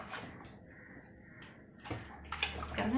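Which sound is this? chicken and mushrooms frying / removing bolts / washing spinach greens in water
washing spinach greens in water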